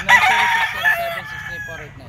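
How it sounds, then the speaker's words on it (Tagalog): A rooster crows loudly and close by in a backyard chicken breeding yard, one long drawn-out call with other chickens faintly clucking behind it. "ito yung mga manok ni Boss Albert."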